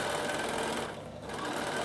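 Close, steady whirring of a sewing machine top-stitching fabric, a continuous rapid needle patter that dips briefly midway, with no voices.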